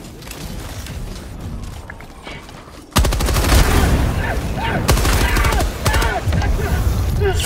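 Gunfire from the video game Helldivers 2, a sudden loud burst of rapid repeated shots that starts partway in and keeps going, with mechanical clatter under it and weapon noise carrying through to the end.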